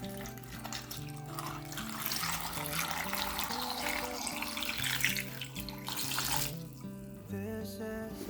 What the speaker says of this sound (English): Add salt and water, then boil until the potatoes are tender.